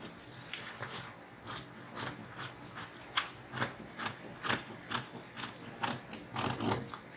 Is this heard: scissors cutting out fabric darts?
yes